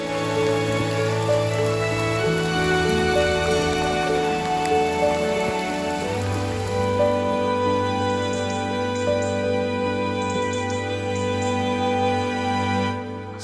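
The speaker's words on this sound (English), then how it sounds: "this rain is absolutely nuts." Heavy rain pours steadily and loudly, an unbroken dense hiss of drops striking surfaces, with no voices.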